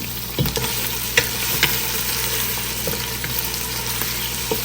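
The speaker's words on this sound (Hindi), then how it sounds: "अब टमाटर डाल के मैं थोड़ा सा इसको पकाऊंगी" Loud, continuous sizzling of tomatoes frying in a pan, with a few sharp clinks and scrapes of a utensil stirring.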